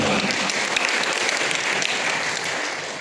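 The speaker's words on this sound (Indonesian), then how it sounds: "Beri tepuk tangan buat Tuhan" Congregation applauding during a church reunion worship service, a dense, loud, sustained burst of clapping that fills the room and fades slightly at the end.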